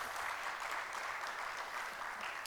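Audience applause at a voting rights conference session, a uniform soft wash of many hands clapping, steady and somewhat distant throughout.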